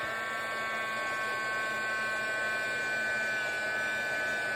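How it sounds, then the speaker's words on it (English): A heat embossing tool used on a stamped card blows hot air in a constant, even whirring hiss with a faint high whine, steady and close throughout with no talk. "Now I'm going to bring in my heat tool, and we're going to heat this up and watch the magic."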